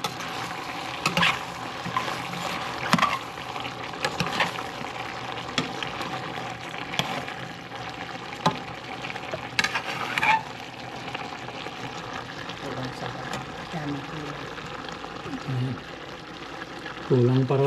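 Pinakbet boils in a cooking pot while a spoon stirs it, giving repeated scraping clinks and bubbling sizzle. People talk throughout.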